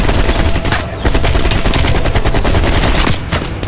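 Rapid automatic gunfire from the player's weapon in Call of Duty: Cold War, a loud, dense stream of shots filling the whole stretch with only a brief gap near the end.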